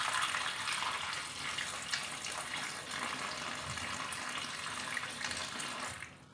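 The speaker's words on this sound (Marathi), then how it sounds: "मग आंबे आपण स्वच्छ पाण्याने धुवून घेऊया।" Tap water runs steadily into a sink while Alphonso mangoes are washed, an even, moderately loud splashing rush that fades out at the end.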